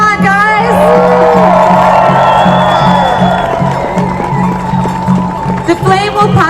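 A large outdoor crowd cheers and whoops continuously as the Olympic torch flame arrives at a relay stage event in Toronto, loud and sustained throughout, with scattered shouts.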